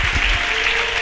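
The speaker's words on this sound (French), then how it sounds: "Acclamez très fort pour le Seigneur." A church congregation claps loudly and continuously, a dense wash of applause from the crowd over one steady second.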